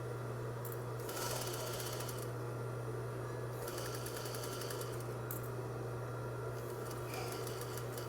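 Sewing machine stitching a French seam in fabric, running steadily forward with short bursts of faster stitching over a constant motor hum, close and clear with no talk.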